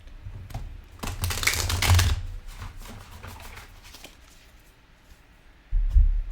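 Tarot cards riffled and shuffled by hand close up, in busy bursts of rapid flicking and tapping that then ease off, followed by a couple of thumps as the deck is squared.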